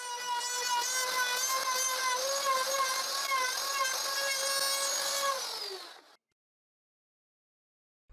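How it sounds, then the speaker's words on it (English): A router with a straight bit cuts a lock mortise into the edge of a wooden window, a high steady whine with a slight downward pitch sag near the end before it stops abruptly into silence. "I use a straight router bit to route the mortise I need to install the lock"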